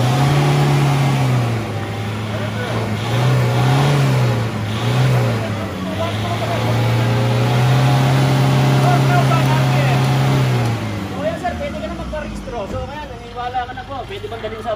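An AMG car engine revs to about 3,500 RPM, its drone holding steady and rising slightly before easing off near the end, while people talk nearby over the noise.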